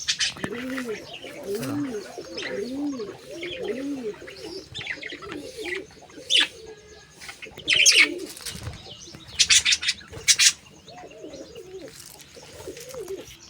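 Grey pigeons coo in repeated low rolling phrases alongside bright sparrow chirps, with a few wing flaps in a backyard cage setting; the cooing runs steadily early on while louder chirping bursts come later.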